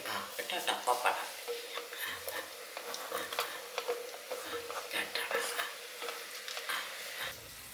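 Green chilli and ginger stirred in a pan, giving a rapid, fairly faint clatter of spoon scrapes and taps over a light sizzle, close by.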